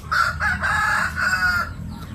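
Chickens crow and cluck near the trees on a farm, one rooster's crow rising loud and close over a low rumble of background clucking.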